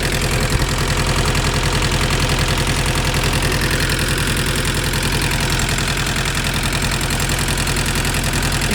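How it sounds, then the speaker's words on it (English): An MK2 Volkswagen Golf GTD diesel with the RA engine idles with injectors being loosened one at a time, a loud steady rhythmic diesel clatter running evenly throughout, no voices. "We're loosening the injectors one at a time with the engine running."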